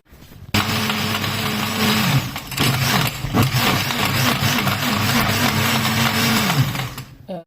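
A kitchen blender grinds hard sliced ingredients for a Cameroonian pepper paste, a loud steady motor whine with rattling, knocking chunks that rises and dips in pitch for several seconds before cutting off.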